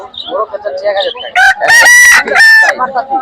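A native rooster crows loudly and close at a busy poultry market, two long drawn-out crows rising over scattered clucks and background market chatter.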